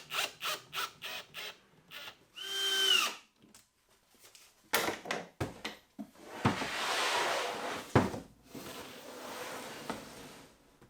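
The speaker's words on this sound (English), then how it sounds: "I decided to drill out for the hinge plates" A power drill bores holes for hinge plates in custom upper cabinets. It runs in short bursts with whining spin-ups, and clunks and handling knocks fill the gaps, with no talking.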